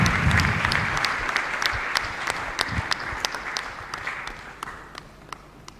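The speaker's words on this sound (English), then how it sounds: "Clap for Jesus Christ." A church congregation clapping during a prophecy and testimony service, with loud, dense applause opening the clip and then thinning, leaving sharp individual claps standing out as the sound gradually fades.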